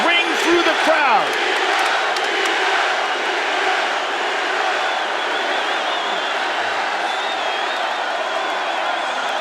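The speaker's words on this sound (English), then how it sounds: "the chants of Diaz ring through the crowd" A UFC arena crowd chants Diaz during a Conor McGregor fight, a loud, sustained roar of many voices with a rhythmic swell near the start, heard from within the crowd.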